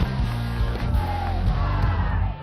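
Spectators yell and whoop at the 2005 UPA College Ultimate Frisbee women's final between UW and Stanford, a steady, dense crowd roar close by with scattered shouts rising out of it throughout.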